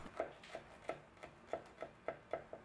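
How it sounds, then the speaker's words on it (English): A slightly serrated butter knife cuts around the core of a grilled-pineapple slice, making a series of about nine short, evenly spaced crisp taps and scrapes, close and fairly quiet with no talking. "take a paring knife, or this is actually a butter knife with a slightly serrated edge to it. And just go around the core of your pineapple slice"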